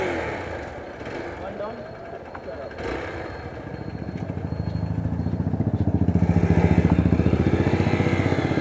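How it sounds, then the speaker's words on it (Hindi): A Hero XPulse 200 motorcycle engine runs and revs up, a throbbing, rising drone that grows louder through the clip with steady mechanical clatter underneath. "भैया चला रहे हमारे बाइक"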